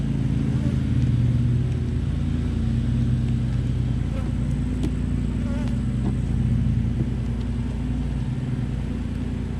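Honeybees buzz around an opened beehive during an inspection, a steady, close drone that runs the whole time, with a faint voice under it.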